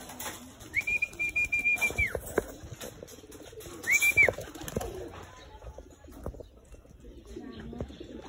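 Racing pigeons coo and flap their wings in short bursts as they return to the loft after a race, with people talking excitedly over the birds in the background.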